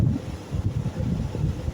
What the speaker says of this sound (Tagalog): Ayan po, malakas yung hangin.